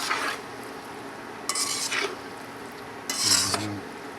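Coconut milk is stirred in a pot over low heat, with three separate bursts of spoon scraping against the pot over a quiet, faint simmer.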